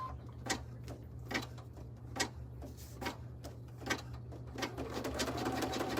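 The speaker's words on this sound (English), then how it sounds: "This is just gonna stitch all the way around." An embroidery machine stitches around an in-the-hoop vertical wallet in a steady run of sharp, rapid needle ticks, close and fairly quiet over a low motor hum.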